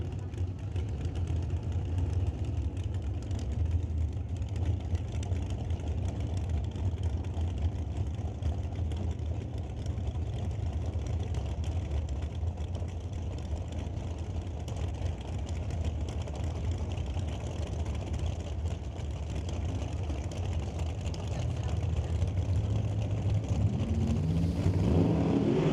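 A 1968 Chevrolet Chevelle drag car's engine idles with a steady low rumble at a drag racing event, heard at a distance and fairly faint throughout, swelling slightly near the end.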